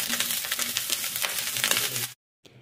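Leftover cooked rice frying with egg in a pan gives a steady, dense sizzle with scraping and crackling up close, then cuts off abruptly to near silence before a faint return.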